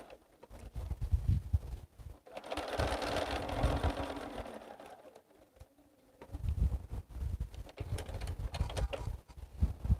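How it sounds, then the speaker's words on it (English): A sewing machine stitches a quilt seam from the wrong side, with a steady mechanical run in the middle of the clip and quieter handling and thumps around it. "So I'm sewing again from the wrong side."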